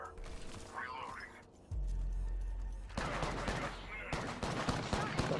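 Automatic weapons fire in Apex Legends: bursts of rapid shots crackle at moderate distance, starting faintly, then growing denser and louder, with a voice speaking in between.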